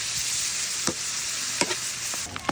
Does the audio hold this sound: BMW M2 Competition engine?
no